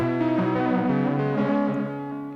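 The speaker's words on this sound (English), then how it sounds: "you kind of get tape chorusing style effects, kind of like the Strymon Deco" Tape chorus effect from a Chase Bliss Generation Loss MK2 pedal on sustained instrument notes, a rich harmonic tone with gently wavering, warbling pitch shifts, loud and close, no talking.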